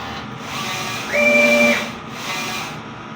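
A DTF printer runs a nozzle test after a head clean, giving a steady mechanical hum that swells into a louder whirring pass with a faint tonal whine, then eases back, close by.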